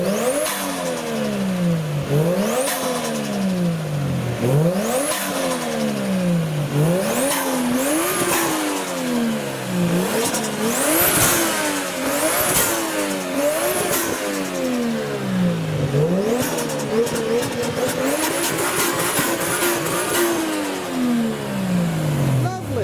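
Revving modified sports car engines, including a GT-R, whine up and down repeatedly as cars pass and shift gears at a Japanese car meet, with a continuous roar and occasional tire noise.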